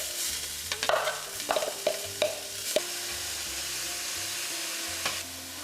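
Onion sizzling and frying in olive oil in a pan, with a steady crackle and intermittent stirring scrapes, close and moderately loud, with no talking.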